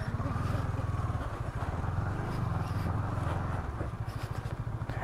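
A luggage-laden KTM Duke 250 motorcycle spins its rear tyre in mud on a wintry mountain ride, the engine chugging close and loud in rapid uneven pulses that swell and dip as it revs.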